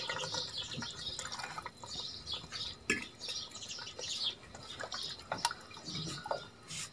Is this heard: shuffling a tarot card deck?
no